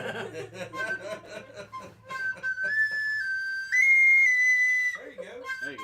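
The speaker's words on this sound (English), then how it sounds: "Penny whistle." A penny whistle is played in short, wavering high notes that rise and hold near the end, at a casual birthday gathering. Laughter and chatter surround it.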